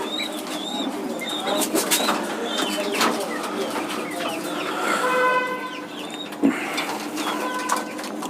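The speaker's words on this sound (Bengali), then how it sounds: "দুইটা মোরগই অনেক ডাকে প্রতিদিন।" Two roosters crow and cluck near a backyard coop where pigeons coo, loud calls overlapping with bird chatter and a low steady hum throughout.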